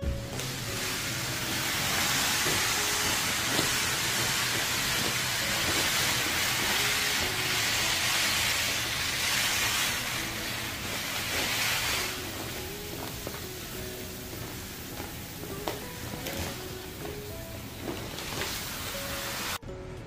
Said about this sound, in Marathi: यावर तांदळाचं पोतं ओतून घेते.